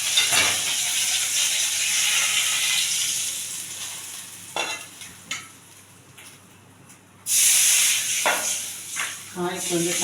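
Cumin seeds frying in about two spoons of hot ghee make a loud, steady sizzling hiss, easing off midway with a few stirring clicks, then flaring up again sharply near the end.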